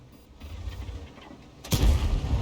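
A tank cannon shot, an ST2 firing in World of Tanks, booms in suddenly after a quieter rumble of engine and battle ambience, then leaves a heavy low roar that rolls on.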